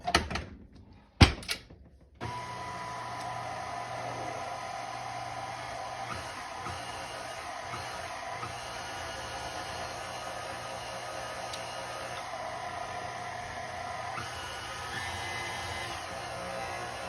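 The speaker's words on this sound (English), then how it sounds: "I'm using a mixer because I have it. And I'm just going to stir that until it becomes a paste." An electric mixer runs steadily for about fifteen seconds, stirring pizza dough ingredients into a paste, with a continuous motor whir after a couple of brief knocks at the start.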